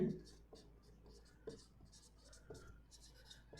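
Writing on a board during an electrical machines lecture on armature reaction: sparse, light strokes and taps arrive roughly every half second, close and faint against a quiet room.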